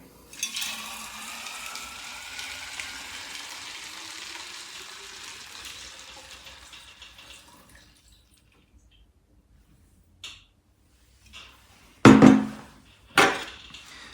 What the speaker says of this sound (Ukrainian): додаємо наш спиртовий розчин. Заливаємо ним наші складові.